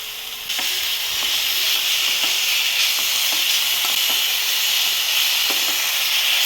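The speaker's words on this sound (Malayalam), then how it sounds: "നമുക്ക് ഈ കൂണ് ഇതിനകത്തോട്ട് ഇട്ട് കൊടുക്കാം." Mushrooms dropped into a hot pan already coated with garam masala and spices, breaking into a loud, steady close sizzle and hiss that carries on without pause, with faint stirring clicks.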